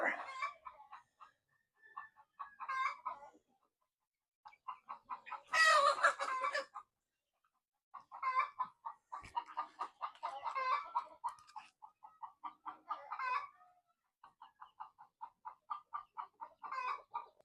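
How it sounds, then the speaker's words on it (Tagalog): Bulwark breeder hens cluck in short bursts, with a louder squawking flurry partway through, near and clear in a backyard farm setting with no voices. "Ito yung hen na Bulwark."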